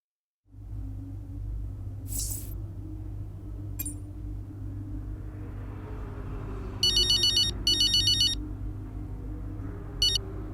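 A phone ringtone in F1 23 trills in short electronic bursts, two close together and then a lone one, riding over a steady low engine rumble with no talk.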